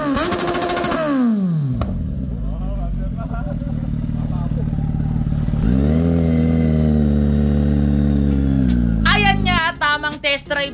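A rented motorcycle engine revs hard at full throttle, a loud, close, sustained roar that climbs and holds, then settles and surges again, with voices talking over it.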